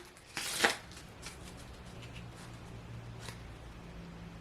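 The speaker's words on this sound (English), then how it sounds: "let's go ahead and shuffle again" A deck of playing cards riffle-shuffled close by, with one crisp burst of ruffling followed by a lighter flick a few seconds later over quiet room tone.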